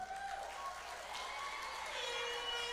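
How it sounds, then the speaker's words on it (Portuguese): A church congregation applauds during a worship service, producing sustained, moderately loud clapping from many hands, with held musical tones sounding beneath the applause. "Uma salva de palmas ao Senhor também para a Adriana."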